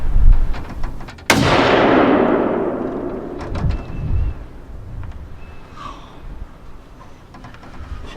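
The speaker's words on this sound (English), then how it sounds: "The bullet went off perfect." A single loud rifle shot fired at game during a hunt, a sharp crack followed by a long rolling echo that fades over several seconds across open country, with faint outdoor background noise afterward and no talk.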